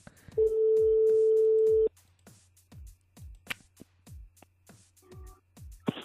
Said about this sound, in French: on appelle une personne du côté de Saint-Denis